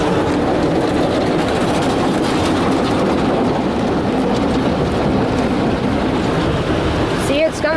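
Ryko Softgloss Maxx brushes spin inside a car wash at a 7-Eleven Exxon gas station, a dense, continuous rumbling wash with splashing water, up close and loud throughout.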